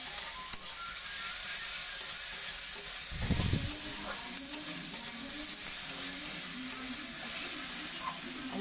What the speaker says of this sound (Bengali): আমি এর উপরে রসুনটা দিয়ে দেবো ভালো করে ভাজা করবে